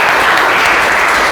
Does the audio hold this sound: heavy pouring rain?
no